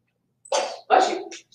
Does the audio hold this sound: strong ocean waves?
no